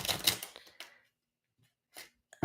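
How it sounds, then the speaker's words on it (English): Goddess oracle cards being shuffled by hand, a dense riffling burst at the start fading out, then two short card flicks after a pause, close and clear with no talking. "We're gonna shuffle the goddess cards and make sure they're nice shuffled."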